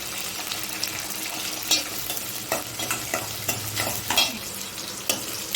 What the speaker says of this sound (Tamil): இப்போ வெங்காயமும் பூண்டும் நார்மலாக வதங்கட்டும்